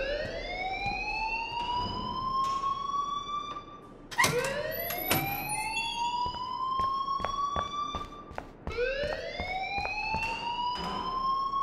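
An alarm in the video game Life is Strange wails loudly in repeated rising, siren-like sweeps. Three long cycles are broken by a few sharp clicks and knocks.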